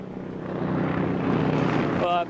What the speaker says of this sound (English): I apologise for the helicopter, which may be making it difficult to hear what I'm saying